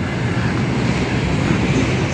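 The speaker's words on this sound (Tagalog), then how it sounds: "nagamit na po nila yung magandang makina. Ito, magandang makina na yung portable mixer" A portable concrete mixer machine runs as a steady, loud broadband roar with a low rumble, continuous and unbroken throughout, with no voices.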